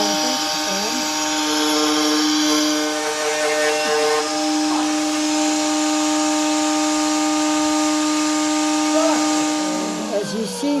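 Grand piano keytops being trimmed by a cutting tool after each key is clamped in place, a steady whining machine tone running throughout with slight scraping changes, close and loud.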